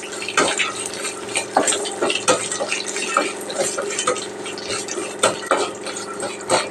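Peanuts already roasted in oil are stirred in a pan, giving a busy run of scraping, clinking utensil strokes with a light fry underneath, close and fairly loud.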